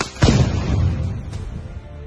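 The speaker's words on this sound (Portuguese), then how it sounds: "Agora na explosão!" A loud boom from a simulated explosion during a military police bank-raid training exercise in Wenceslau Braz, a single sharp blast that rumbles and decays over the next two seconds.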